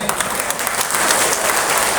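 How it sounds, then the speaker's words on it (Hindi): A crowd at a political election speech gives a short burst of dense, continuous clapping at fairly close range. "अब जो लोग सबसे ताली मार रहे हैं ना"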